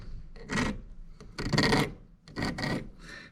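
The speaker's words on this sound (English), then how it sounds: "We'll just start filing." A hand file rasps across the cutting teeth of a saw chain, three separate bursts of strokes with short pauses between them, close and clear with no talking.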